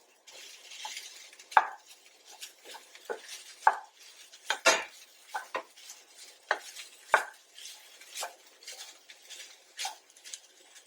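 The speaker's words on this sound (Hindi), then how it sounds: "जब ये थोड़ा भून जाए तो इसमें पनीर डालकर भूनेंगे।" Paneer stir-fried in a pan, with irregular scraping and clinking of a spatula against metal, close and fairly crisp, over a faint sizzle.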